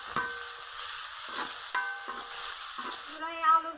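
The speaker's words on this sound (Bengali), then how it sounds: "তেল গরম হয়ে গেছে, দিব পেঁয়াজ কুচি, গ্রেট করা রসুন, গ্রেট করা আদা, দিয়ে দেবো টমেটো কুচি, কাঁচামরিচ কুচি, স্বাদ মতো লবণ দিয়ে ভাজা ভাজা করে নিব" Chopped onion, grated garlic and ginger, tomato and green chili fry in hot oil, giving a steady soft sizzle with scraping stir strokes from a utensil at intervals, close and moderately quiet.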